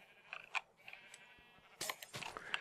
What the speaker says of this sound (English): Because the sheep are more than a block tall.